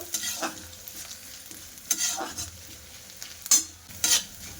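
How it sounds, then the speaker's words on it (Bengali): Grated ginger frying in a pan, a soft sizzle broken by several bright scraping stirs and utensil clinks against the pan, no one speaking. "এবার হালকা করে একটা আদাটা ভাজা করে নেব"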